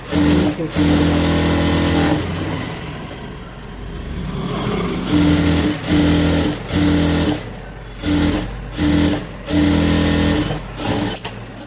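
Sewing machine stitching fabric in short, rapid bursts of motor whir and needle rattle, stopping and starting several times with brief pauses between runs, close and loud.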